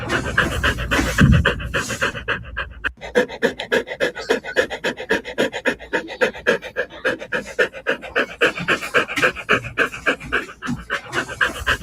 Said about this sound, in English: That good doggo just breathing like a freight train.